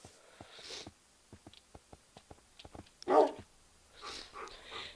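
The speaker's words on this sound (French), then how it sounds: "Les toutous." Several dogs bark in a survival video game at night, a rapid run of short, sharp barks followed by one louder, nearer bark and some softer whimpering yips at the end.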